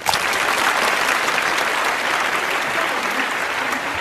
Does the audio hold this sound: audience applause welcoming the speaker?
yes